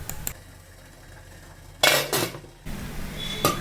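A metal lid goes onto a cooking pot holding wheat flour and banana batter for an evening snack, with a cluster of close clanks and rattles, then a single lighter clink shortly after.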